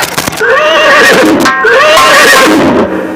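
A black horse in a nautanki folk theatre performance neighs loudly and up close, giving two long, wavering whinnies one after the other.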